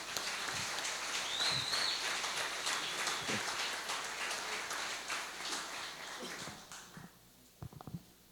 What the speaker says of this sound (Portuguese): Dê uma salva de palmas para esse homem.